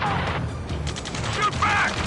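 Gunfire in Ace Combat 7 during a firefight, with a squad pinned down and taking fire: rapid bursts of shots and mechanical clatter, partly mixed with voices shouting over the combat.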